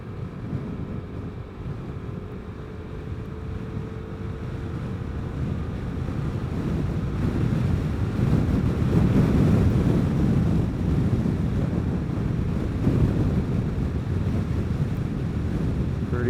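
Wind buffets the microphone while riding a Vespa GTS 300 scooter, a continuous low rumbling roar that swells slightly midway, with the scooter's faint hum beneath.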